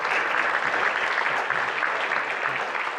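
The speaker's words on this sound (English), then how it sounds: "Let's give him a round of applause." A luncheon crowd in Tampa gives a councilman a round of applause, dense continuous clapping holding steady and loud throughout.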